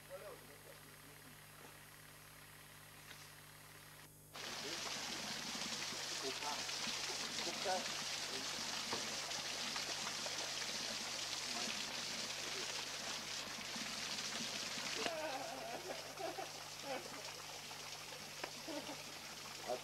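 Water rushes down a waterfall's cascades in Togo as a steady, broad roar that swells in suddenly after a few quiet seconds and then carries on evenly, with a slight shift late on.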